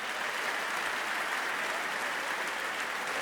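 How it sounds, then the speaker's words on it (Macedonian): Audience applause at a live concert event, a dense, steady wash of clapping from a large crowd filling the whole stretch without pause. "Сакам да дадете еден посебен аплауз за девојките од модното студио Црнокрак"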